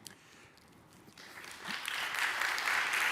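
Audience applause at an event with a Gaza journalist, starting faint and swelling into a dense wash of clapping that keeps building to the end.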